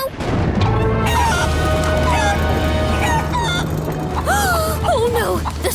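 Cartoon chickens cluck and squawk in a busy animated scene, bird calls rising and falling over a constant background of music and effects.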